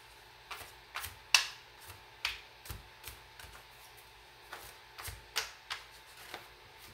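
Tarot cards are shuffled in quiet, irregular bursts of soft riffling and tapping, close by, with short pauses between.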